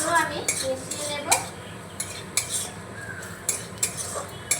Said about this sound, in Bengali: এবার ভালো করে গুঁড়ো মশলাগুলো আমি মিশিয়ে নেব।